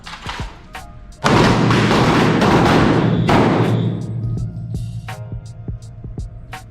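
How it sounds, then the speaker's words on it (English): Handgun rounds fired on an outdoor firearms instructor training range: a sharp, loud report booms and rings out with a long echo, followed by a few fainter, distant shots and clicks. "You will draw and fire 3 rounds in 5 seconds."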